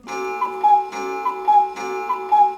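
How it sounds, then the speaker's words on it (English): A cuckoo clock from the film The Third Man gives three evenly spaced rounds of its chiming two-note call. Each round is loud and close, with a ringing tonal quality. "That's Harry Lime's famous cuckoo clock"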